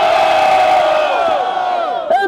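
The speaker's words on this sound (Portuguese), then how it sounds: "Barulho para MC Pelé" Loud crowd at a freestyle rap battle in São Gonçalo, a sustained roar of cheering and yelling close by, briefly swelling with a shout at the end.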